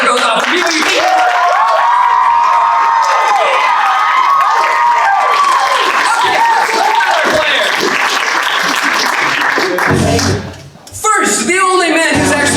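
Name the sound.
crowd applause and cheering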